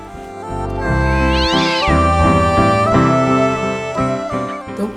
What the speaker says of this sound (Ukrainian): кіт з бурчанням забирався на ялинку все вище і вище